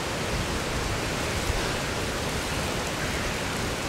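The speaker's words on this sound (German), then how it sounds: "Von gestern so Regen bis heute so Regen." Heavy, steady rain pouring down during Cyclone Nargis, a dense unbroken hiss that stays loud and even from start to finish, with no voices.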